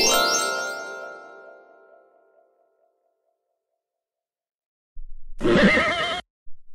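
A horse, Mister Ed from the TV show, lets out a loud descending whinny that fades away, followed after a pause by a short burst of louder snorting, blustery noise.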